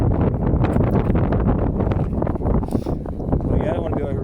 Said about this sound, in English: The wind's coming pretty strong now.